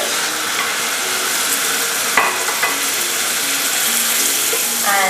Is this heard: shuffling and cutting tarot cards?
no